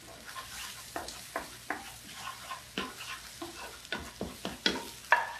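Eggs for shrimp fried rice fry in a wok, probably cast iron, as a spatula scrapes and stirs in quick, regular strokes over a light sizzle. The sound is close and fairly quiet, with no talking.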